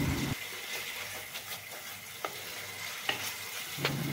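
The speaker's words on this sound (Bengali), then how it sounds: "হলুদ, পরিমাণ মতো লবণ দিয়ে মশলাটাকে খুব ভালো করে কষিয়ে নিচ্ছি।" Spice paste with turmeric and salt sizzles steadily in a pan over low heat, cooked down for a fish curry, with a few sharp scrapes of a spoon breaking through the continuous frying hiss.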